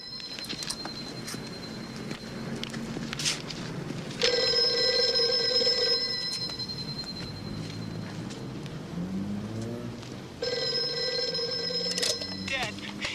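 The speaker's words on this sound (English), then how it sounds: "the payphone suddenly receives a mysterious phone call" A payphone rings in two bursts with a pause between them, over quiet background sounds.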